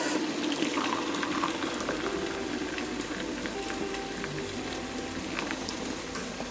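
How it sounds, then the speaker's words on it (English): A steady bubbling, sizzling wash of boiling water streaming into a cup, continuous and close throughout, with no speech. "I'm gonna add my rapidly boiling water and fill the cup up"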